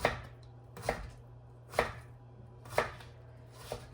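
A knife chops food on a board in a rural kitchen, giving five evenly spaced, sharp strikes about a second apart, close and quiet over a low steady hum.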